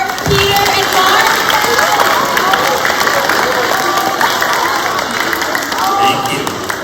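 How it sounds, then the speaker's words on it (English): Applause and cheering from a school audience of students at an author and illustrator visit, a dense, steady clapping crowd filling the room loudly for several seconds. "One more round of applause for Peter and Marc."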